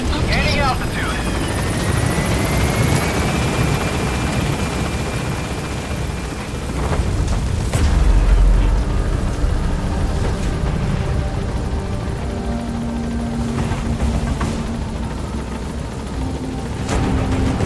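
Pequod, the helicopter in Metal Gear Solid V, lifts off from a landing zone: a loud, steady rotor roar with a rising turbine whine that persists throughout, and a deep boom partway through.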